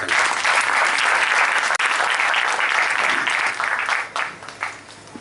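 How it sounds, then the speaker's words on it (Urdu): An audience at an Urdu Academy poetry gathering applauds as a poet is introduced, loud dense clapping that holds steady and then thins out into scattered claps. "آپ کی تالیوں کے ساتھ جناب منظر"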